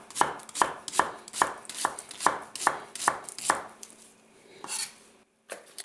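A knife slices vegetables on a cutting board in a brisk, even run of about nine close chops, then a pause and a couple of softer cuts while the outer layers are peeled away.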